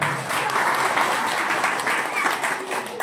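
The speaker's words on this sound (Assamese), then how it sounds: "আমি সকলোৱে এটা হাত চাপৰি বজাব লাগে" Audience at a school annual function breaking into loud, sustained applause, many hands clapping together in a dense, even roar throughout.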